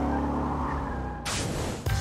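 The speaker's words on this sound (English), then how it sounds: "it basically holds the car on the front brakes, but lets you spin up the rears to get the tyres all hot and sticky" A Ford Mustang holds on its front brakes with line lock while the rear tyres spin, the engine droning loudly and steadily before a harsh rush of tyre-scrubbing noise bursts in, dips briefly, then surges again, close and without voices.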